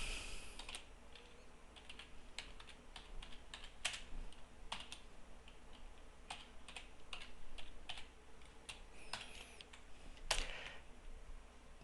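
Fingers tap at a computer keyboard while typing into a chat client, with clicky keystrokes in uneven bursts and short pauses, close but quiet over a soft room hum, with no voices.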